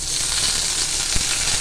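Chopped onion and tomato frying in oil in a clay pot while cooking paneer dum biryani, a steady, close hiss of sizzling with a soft stir or clink near the end.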